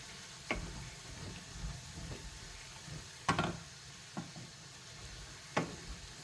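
Food stirred in a non-stick pan as it fries toward brown. A faint, low sizzle runs under a few sharp, scattered taps and scrapes of the utensil, and the whole scene stays quiet.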